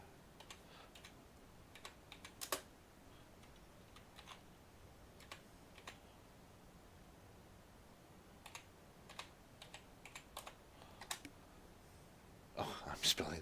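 Someone types on a computer keyboard close to the mic, quiet scattered clicks and short bursts of keystrokes at an uneven pace, with a quick flurry of keys near the end.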